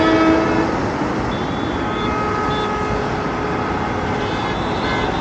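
A loud, continuous train roar with rattling wheels fills the air as the train comes out of a tunnel near Lonavala, Maharashtra, faint horn-like tones sounding briefly near the start.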